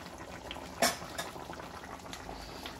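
Fish curry simmers on low heat in a covered pot, giving faint, steady bubbling with a single sharper clink of metal near the start.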